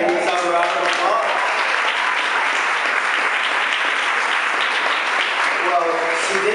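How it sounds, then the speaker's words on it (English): A large audience applauds steadily throughout at an evening celebration ceremony, dense and loud. Speech-like voices sit at the start and end, and a speaker can be heard over the applause. "Can we have a round of applause?"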